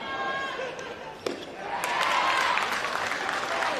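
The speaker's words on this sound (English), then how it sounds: "Now the crowd comes alive, the Queenslanders. You can hear them out there." Crowd at a New South Wales vs Queensland softball game rises into a broad cheering roar midway through, after a sharp slam-like impact, continuing loudly to the end under faint background.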